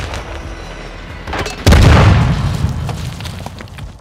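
A grenade goes off in Call of Duty: Modern Warfare II, a loud, close boom with a rumbling tail that fades slowly, after a stretch of quieter game ambience.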